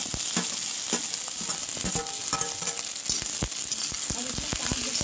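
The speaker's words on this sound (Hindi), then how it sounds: "तेल हो चुका है, अब इसमें हम करेंगे भिंडी फ्राई।" Okra sizzles and crackles steadily in a half teaspoon of hot oil in a pan, with sharp clicks and scrapes of stirring scattered throughout, close and fairly loud.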